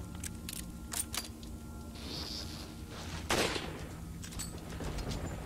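Pistol and TMP submachine gun shots in Resident Evil 4, sharp scattered cracks with a few quick bursts over a steady game background, moderately loud and alone without talk.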